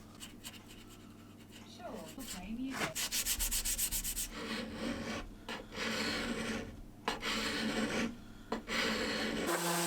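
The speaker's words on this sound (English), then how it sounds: "And I did some final sanding using my random orbit sander." A random orbit sander works over a wooden cat radiator bed, giving a loud, steady whirring grind with shifts in pitch as it moves across the surface, broken by a couple of brief pauses.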